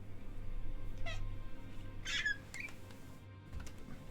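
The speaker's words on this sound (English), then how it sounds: "That was the sound of me picking up my cat and putting him on his little bed." A pet cat is picked up and set down on its small bed, giving a couple of short, faint meows and squeaks over quiet room background, with brief soft rustling.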